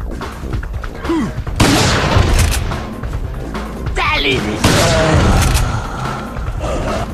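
Shotgun blasts in Resident Evil 4 land as two loud bursts about three seconds apart amid game effects, with someone talking over the action.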